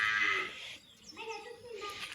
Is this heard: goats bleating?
yes